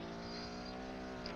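A minivan in Roblox Greenville drives along a road, its engine giving a steady, faint hum that holds at one pitch for a moment, with no voices.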